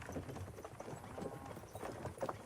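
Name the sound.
horse hooves clip-clop in video game Kingdom Come: Deliverance II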